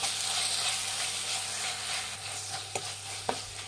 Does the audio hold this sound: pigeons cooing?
no